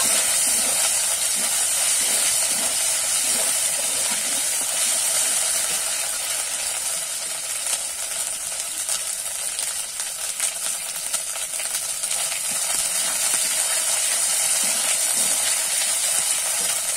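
Ginger and green chili paste sizzles steadily as it fries in a pan, a continuous, even hiss that runs without a break and with no voices over it.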